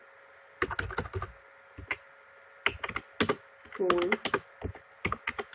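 Keywords typed on a computer keyboard for a Google Ads setup, bursts of quick clicking keystrokes separated by pauses, close and clear, with someone speaking briefly between them.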